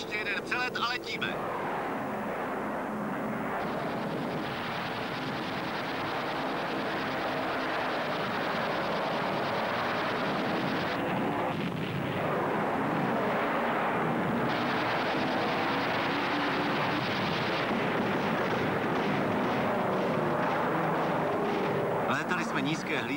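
A fighter aircraft flies low overhead, its loud roaring engine steady and close for most of the stretch, with a brief dip partway through and faint voices underneath.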